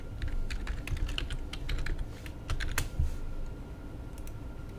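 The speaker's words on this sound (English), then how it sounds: "click login first, type in the password" Password being typed on a computer keyboard while logging into camera configuration software, a steady run of quick, close key clicks with a few louder taps, no voices.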